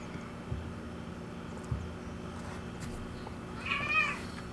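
A cat in the Genshin Impact video game gives a single short meow near the end, heard alone over a low, steady game background hum after a few soft thumps.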